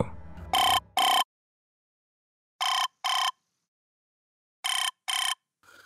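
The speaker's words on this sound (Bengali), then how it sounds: "এই বলে অনির্বাণ অরিন্দমকে ফোন করল" Telephone ringback tone on an outgoing call: three pairs of short electronic rings, each pair followed by a long silence, heard close and clear after a brief bit of low sound at the start.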